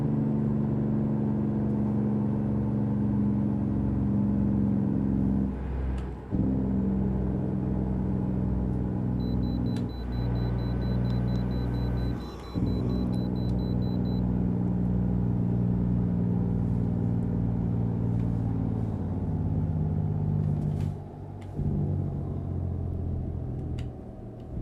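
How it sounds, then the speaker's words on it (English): A heavy truck engine rumbles steadily in American Truck Simulator with a deep droning growl, its low throb pulsing and briefly dipping a few times as the Jake brake engages, continuous throughout. "Them good old Jake brakes"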